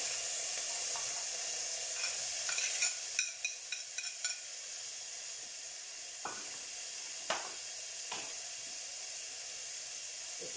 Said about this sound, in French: je vais en même temps en profiter pour rajouter les lardons, ils vont cuire ensemble